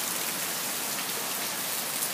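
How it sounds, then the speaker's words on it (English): Heavy rain pours steadily in a strong storm at Costa Azul, Luquillo, with wind adding to a dense, continuous roar that stays loud and even throughout, with no voices. "Strong winds, lots of rain."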